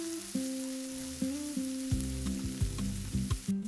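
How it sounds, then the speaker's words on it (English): Prepared onion sautéing in a hot skillet gives a steady close sizzle, with stirring scrapes and clacks of the utensil recurring every half second or so, and no talking. "We send the prepared onion straight into the hot skillet. We sauté, stirring until soft and fragrant."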